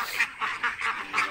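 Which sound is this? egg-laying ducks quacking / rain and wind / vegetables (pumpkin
egg-laying ducks quacking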